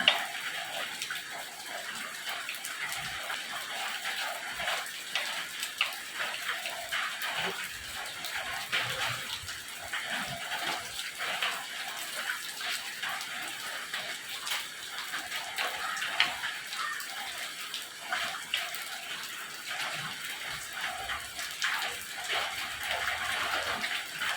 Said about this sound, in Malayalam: ഇന്നിപ്പോൾ വാഷ് ബേസിനൊക്കെ ഒന്ന് കഴുകാനുണ്ടായിരുന്നു, അതൊക്കെ ചെയ്തുകൊണ്ടിരിക്കുക.